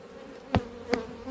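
A honey bee colony of a poor-tempered variety in an apiary gives off a steady, close droning buzz, broken by a few sharp taps or knocks, with no speech.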